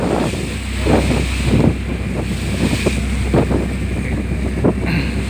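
A boat engine drones steadily as the craft speeds up on the open sea, with the rush of waves and heavy wind buffeting the microphone throughout.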